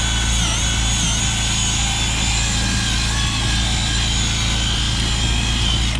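A drill-driven brush scrubs pet hair from a vehicle interior, giving a steady whirring motor drone with bright harmonic whine, running continuously and fairly close throughout.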